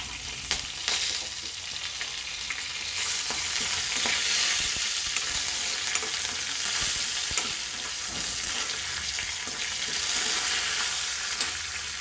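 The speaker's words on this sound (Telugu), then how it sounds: "జీలకర్ర వెల్లుల్లి కొంచెం వేగిన తర్వాత వాము వెండిమిర్చి కరివేపాకు వేసుకోవాలండి" Cumin seeds, garlic, ajwain, chillies and curry leaves fry in hot oil with a steady, close, loud crackling sizzle and occasional stirring scrapes, no voices.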